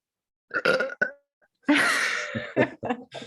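A single long, loud burp rumbles out between short bursts of nearby talk, standing clearly above the surrounding speech.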